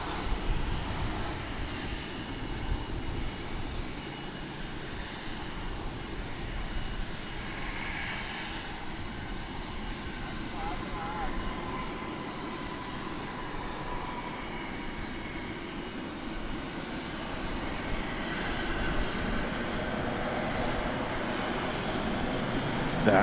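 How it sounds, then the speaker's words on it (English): An American Airlines Airbus A321-300 arriving at DFW from Seattle makes a soft, distant engine rumble that drifts steadily for over twenty seconds and swells slightly near the end, with no clear talking. "That was American Flight 1992 coming in from Seattle after a 3-hour and 18-minute flight on that Airbus A321-300"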